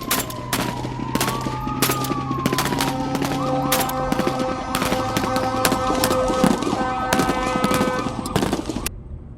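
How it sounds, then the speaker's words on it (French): Rapid bursts of gunfire crackle and pop continuously amid chaotic noise, with a wavering siren-like tone and shouting mixed in, loud and close. "j'entends des coups de feu et des cris dans tous les sens"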